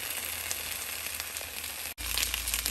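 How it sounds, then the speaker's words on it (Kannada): Potato pieces frying in a pan over medium flame until crisp and golden, giving a steady dense sizzle and crackle throughout, with a brief break near the end before the sizzling resumes. "ಚೆನ್ನಾಗಿ ಕ್ರಿಸ್ಪಿಯಾಗಿ ಬ್ರೌನ್ ಕಲರ್, ಗೋಲ್ಡನ್ ಕಲರ್ ಆಗೋ ತನಕ ಇದನ್ನು ಫ್ರೈ ಮಾಡೋಕ್ಕಿಡೋಣ"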